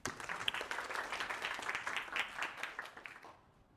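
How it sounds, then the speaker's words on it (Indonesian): A classroom of students gives brief applause for a classmate's answer, quiet scattered clapping that holds for about three seconds and then fades out. "Kasih tepuk tangan."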